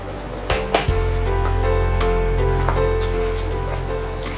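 Mango halwa is stirred in a pan, with a few sharp metallic knocks early on, then scraping strokes over a steady low hum.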